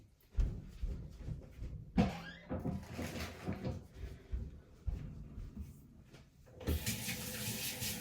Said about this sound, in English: Wash our hands real quick.